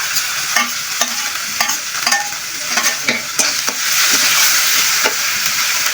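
Dried fish chutney ingredients frying together in a pan: a loud, steady sizzle with rhythmic spatula scrapes, roughly twice a second, heard up close with nobody talking.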